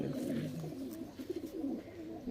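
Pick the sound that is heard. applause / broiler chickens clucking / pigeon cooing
pigeon cooing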